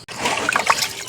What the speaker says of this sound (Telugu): బియ్యాన్ని నీట్గా 2 సార్లు కడుక్కున్న తర్వాత